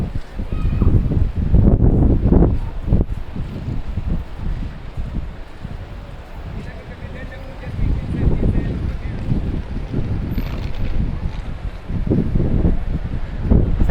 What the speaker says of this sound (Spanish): Hace mucho viento hoy